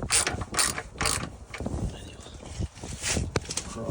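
Bolts being tightened on a Pentair MasterTemp pool heater bypass assembly, a close series of short clicking ratchet strokes in uneven bursts, with occasional metallic knocks.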